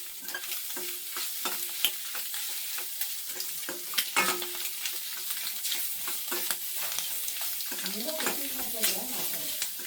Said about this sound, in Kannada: ಇವಾಗ ಇದು ಕಂಪ್ಲೀಟಾಗಿ ಫ್ರೈ ಆಗಲಿ